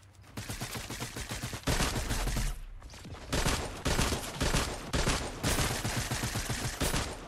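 Rapid bursts of Dualies fire in a shooter video game, loud and close, with dense trigger-held volleys broken by a brief pause near the middle before more fast strings of shots.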